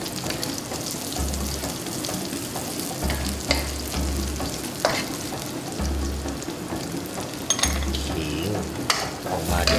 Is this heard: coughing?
no